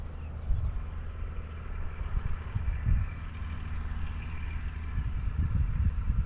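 A steady, low engine of a Case IH Maxxum 5130 tractor rumbles along on a road at a moderate distance, droning continuously without much change in loudness.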